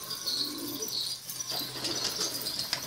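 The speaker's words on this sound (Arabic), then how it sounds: "قدامك الطيور ابو احمد." Domestic pigeons in a loft cooing softly while wings flap and rustle nearby, a busy, continuous flutter with no voices.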